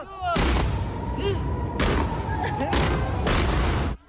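Several loud, deep booms burst one after another, each rumbling briefly, with faint voices underneath.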